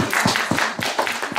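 Studio audience on a comedy show applauding a performer named Pavel, a brief burst of dense, steady clapping close up and fairly loud.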